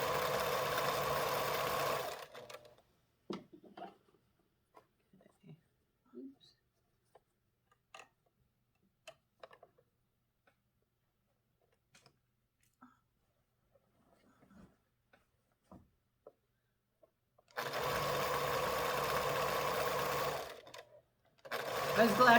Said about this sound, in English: I'm going to do a quick back stitch on this just to hold that in together